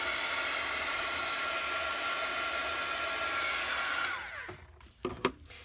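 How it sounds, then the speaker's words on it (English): Heat tool blowing hot air steadily over a card, a loud continuous whooshing hiss for about four seconds that then cuts off, leaving faint handling bumps. "you can see I'm moving my heat tool around."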